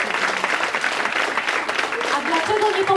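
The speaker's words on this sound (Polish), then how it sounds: "Duże brawa." An audience at a benefit celebration bursts into sustained applause, a dense wash of many hands clapping throughout, with a voice speaking over it toward the end.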